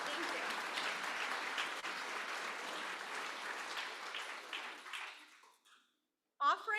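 Audience applause at a literary author event, a dense, steady wash of clapping from a crowd that holds for several seconds, then thins and dies away into silence before a voice begins speaking.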